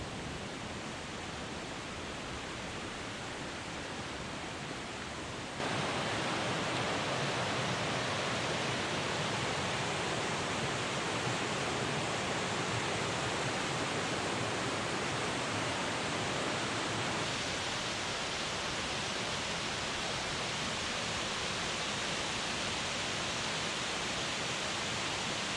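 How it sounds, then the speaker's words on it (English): Kancamagus Falls, a 20-foot waterfall in Lincoln, New Hampshire, plunges into a pool with a steady, broadband rushing roar that grows louder partway through and then holds constant, with no voices. "It's a 20-foot waterfall plunging into a nice pool."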